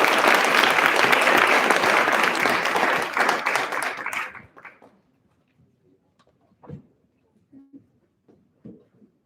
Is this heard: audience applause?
yes